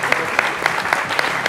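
A studio audience on a midday TV talk show breaks into loud, dense, continuous applause, close and sustained for the whole brief moment.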